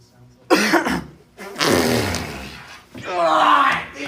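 A person coughs and clears their throat in a few harsh, close bursts over about four seconds, with some strained vocal sounds mixed in.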